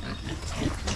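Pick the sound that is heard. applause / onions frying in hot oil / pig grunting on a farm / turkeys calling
pig grunting on a farm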